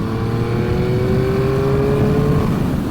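Triumph Speed Triple 1200 RS motorcycle, a 2023 model, its engine pulling steadily at low revs with a continuous close-up drone and a slowly rising whine over the full stretch, no voices.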